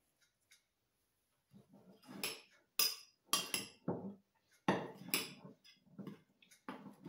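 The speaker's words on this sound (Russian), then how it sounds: "Смешали сухие ингредиенты и оставляем в стороночке." Dry ingredients for carrot muffins mixed in a bowl: scattered clinks and scraping knocks of a utensil against the bowl, coming in uneven bursts separated by quiet gaps, close and fairly loud.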